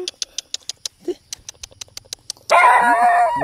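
A dog at a house on a mountain barks once, a loud harmonic bark near the end, after a run of quick, evenly spaced ticking pulses.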